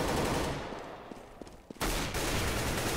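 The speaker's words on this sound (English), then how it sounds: "I like how this kid just keeps strafing and just ripping with the AK" Bursts of AK rifle fire in the video game CS:GO, a rapid automatic volley ringing loud and close, then a few sparse shots, then another sustained burst that cuts off abruptly.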